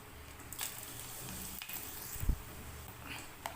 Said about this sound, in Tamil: இப்போ கடுகு போட்டுக்கலாம். இப்போ வரமிளகா ஒரு 2 போட்டுக்கலாம்.